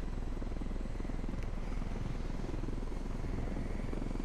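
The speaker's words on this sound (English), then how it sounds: "It really feels good to fly the helicopters." A helicopter's rotor chops and engine roar continuously at a steady, moderate level in Ghost Recon Wildlands, with no voices present.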